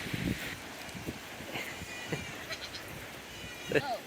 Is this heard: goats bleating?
yes